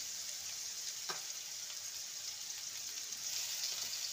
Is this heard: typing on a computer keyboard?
no